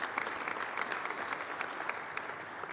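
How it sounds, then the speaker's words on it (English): Steady, fairly soft audience applause fills a university press conference room for the chancellor, an even patter of many hands with no one speaking over it. "A big round of applause for his support through this process."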